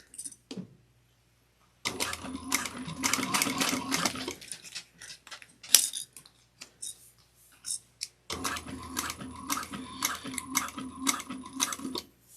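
A sewing machine stitches through a clear plastic bag in two bursts of close, rapid mechanical chatter, separated by a quiet pause that holds a sharp click and a few faint taps.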